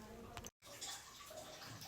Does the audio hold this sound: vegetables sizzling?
no